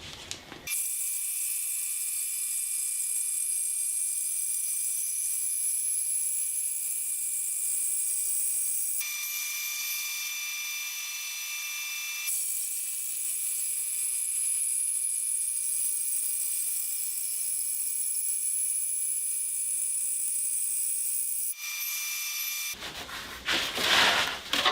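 An Accu-Slice automated saw slices thin boards with a steady high-pitched whine, one long even cut followed by a second after a brief shift in tone, ending in a short burst of rattling.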